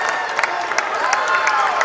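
A crowd at a boys' high school basketball game between Carl Albert and Duncan cheers and shouts steadily after a banked three-pointer, a dense roar of voices with some clapping mixed in.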